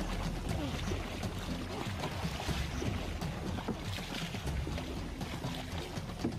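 A boat is dragged through water far from shore, giving a continuous churning wash of splashing and rushing water with wind buffeting, steady and fairly loud throughout.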